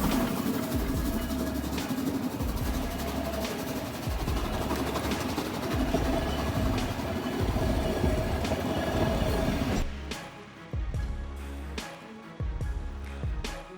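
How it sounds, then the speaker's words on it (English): A Harz narrow-gauge railway locomotive runs through the Harz Mountains between Steinerne Renne and Drei Annen Hohne. A loud, continuous rumble of rolling wagons and wheels drops near the end to a quieter run with distinct rail clacks. "featuring a Harz narrow-gauge railways locomotive in the Harz Mountains"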